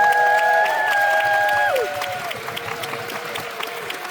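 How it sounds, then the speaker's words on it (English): Audience clapping at a shorts film screening Q&A for the filmmakers, rising under a sustained musical chord that slides downward and fades. Moderately loud, even applause carries on alone afterward. "A round of applause."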